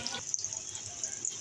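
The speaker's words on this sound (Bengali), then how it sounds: "উল্টো পিঠটা ভেজে নেব।" Egg and potato kebabs coated in biscuit crumbs sizzle steadily in a pan of hot oil, a constant hissing fry with no voices.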